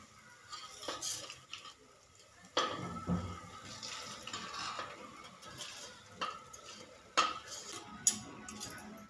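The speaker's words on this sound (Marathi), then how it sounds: "तर हे बघा तांदूळ घालूया।" Rice poured into roasted masala in a pan, with a few sharp clinks of a spoon against metal and soft stirring scrapes over a faint sizzle, close and moderately quiet.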